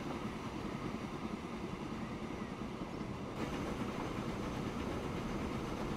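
A wood-hauling freight train in the Transport Fever video game rumbles along with a steady rolling rail noise and faint clickety-clack, the mechanical drone constant and moderately quiet, shifting slightly in tone partway through.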